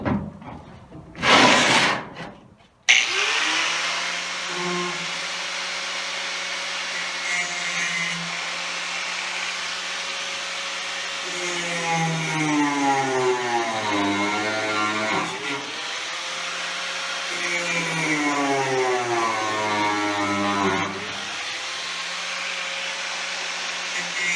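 A power tool cuts through metal while a rat rod's gas tank is being installed. A sharp burst at the start gives way to a steady, loud, whining motor drone whose pitch dips and rises repeatedly as it bites into the metal.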